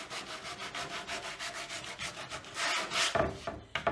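60-grit sandpaper is rubbed by hand over a wooden board for a rustic porch sign, making quick, even back-and-forth scratchy strokes up close with no talking.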